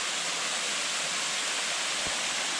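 A steady, loud hiss of a waterfall at Palenque, Mexico fills the air without a break, with a single low thump near the end.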